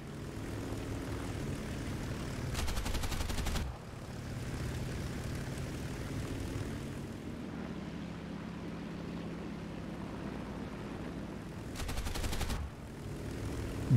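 Finnish fighter planes chasing a Soviet I-153 Chaika biplane at low level, with a continuous propeller engine roar and two short bursts of machine-gun fire.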